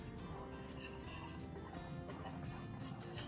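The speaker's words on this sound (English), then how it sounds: "I'm going to whisk these together" Dry muffin ingredients, including baking powder and salt, are whisked together in a bowl, making soft continuous scraping with light metallic clinks at a low, quiet level.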